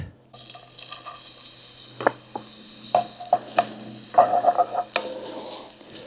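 Onions and celery go into butter in a Dutch oven at a campsite, with a soft steady sizzle under scattered clinks and scrapes of a utensil stirring the pot.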